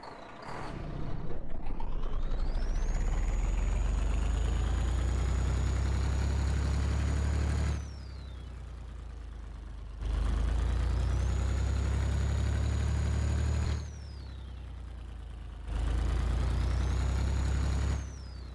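A Kodiak truck engine in Garry's Mod revs up three times, each time holding a loud, buzzing high-RPM drone for several seconds before dropping back to a lower idle rumble, with a thin synthetic whine riding on top.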